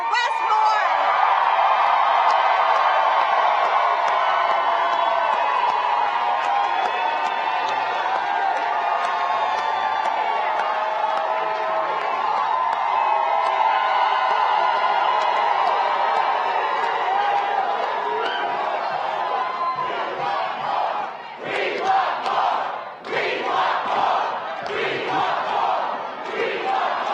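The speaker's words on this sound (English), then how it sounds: "Let's have a round of applause for your next governor, Wes Moore." A large crowd at a political get-out-the-vote rally in Maryland cheers and roars loudly and continuously for the next governor, with shouts and whoops, breaking into uneven bursts toward the end.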